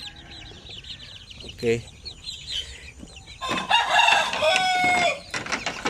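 One-month-old Basilan and Zampen chicks peep and cluck in a crowded cage, a dense chorus of high calls that swells loudly in the second half, with a brief spoken word near the start.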